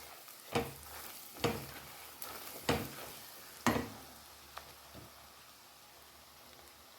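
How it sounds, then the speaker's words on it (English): Grated ginger and garlic fry in a pan for a raw jackfruit and potato curry, a soft steady sizzle broken by sharp, spaced pops and crackles, close and fairly quiet. "I'll cook this till the raw smell of the ginger and garlic goes away."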